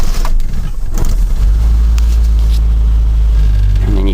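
A 1985 Mazda B2000 ute's engine runs steadily and loud as the truck drives off, a constant low rumble with some rattly mechanical noise over it and faint background sounds.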